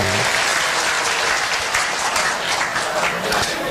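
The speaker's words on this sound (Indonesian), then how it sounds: "Tepuk tangan." Steady applause from an audience at a talk, dense continuous clapping at moderate loudness for several seconds with a faint crowd murmur beneath.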